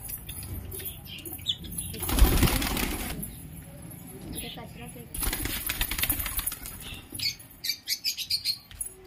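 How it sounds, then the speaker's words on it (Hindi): Long-tailed high-flying pigeons take off with a sudden loud burst of flapping wings, and more bouts of fluttering follow. Chirps and a person talking are heard between them. "ये कबूतर लॉन्ग हाई पिजन कबूतर में आता है"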